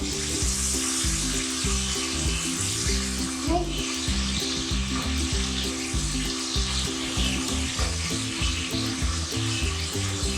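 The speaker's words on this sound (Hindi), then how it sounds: "प्याज और लहसुन जो हमने मैश किया था। इनको अच्छी तरह भूनना है।" Mashed onion and garlic sizzle steadily in a hot pan for mutton paya curry, a constant close frying hiss with occasional stirring, underneath a low background hum.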